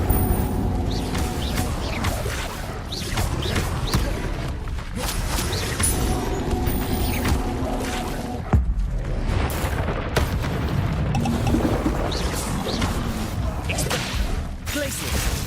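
Spell combat in Hogwarts Legacy, with the Incendio fire spell cast amid a dense stream of loud magical blasts, whooshes and booms that run almost continuously with a spoken incantation.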